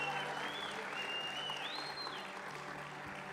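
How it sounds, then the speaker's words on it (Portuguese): A church audience applauds the actors in a steady, even wash of clapping that sounds somewhat distant and subdued, with a faint thin tone drifting above it. "dê um aplauso para os atores,"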